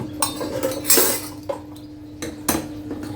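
Sugar being stirred into hot ghee in a metal pot while making Diwali snacks: a few sharp clinks and scrapes of a spoon against the pot, close by, with a soft background hum and no talking.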